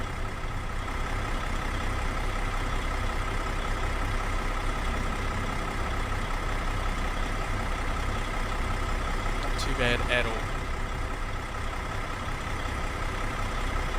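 Truck engine idling in American Truck Simulator, a steady low rumble with a constant drone that holds level throughout, while someone talks briefly over it.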